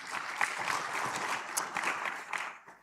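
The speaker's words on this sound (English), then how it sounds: "We can clap for him." An audience at a regional research and innovation conference applauds briefly, a moderate spatter of clapping with a few sharper individual claps, heard at a slight distance.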